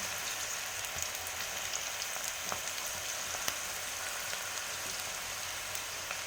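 Batter drops into hot oil on a low flame and fries with a continuous dense crackling sizzle, steady and moderately quiet, with faint pops and no voices.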